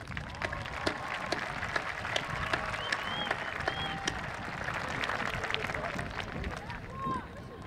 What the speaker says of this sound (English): Please all join me in applauding these important supporters